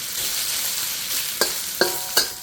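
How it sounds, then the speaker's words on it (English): Beef stir-fried in a wok, with tomatoes, onion and black bean sauce, makes a steady close sizzle, broken by three sharp scraping clanks of the spatula against the wok toward the end. "we want to cook it, stir fry constantly so there's even cooking"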